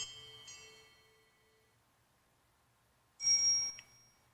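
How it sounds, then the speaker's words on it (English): A soft bicycle bell ringtone from a Diggro DI03 smart watch plays through its small speaker, a faint bright ring fading out, followed by a short louder burst of tone. "barely hear that one, the bicycle bell"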